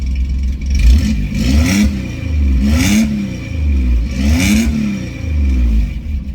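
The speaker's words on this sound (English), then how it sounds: "you can hear it now, it's a bit choppy with that exhaust exiting down there" A Ford Granada V6 with a choppy exhaust revs up close and loud, its throaty engine note rising and falling in three repeated surges over a steady idle, with no voices.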